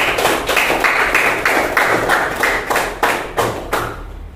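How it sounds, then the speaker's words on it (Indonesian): Classmates clap for a student during a classroom teaching session: loud, fairly regular rhythmic bursts of clapping repeat steadily, close by, then ease off near the end. "Tepuk tangan buat Yogi."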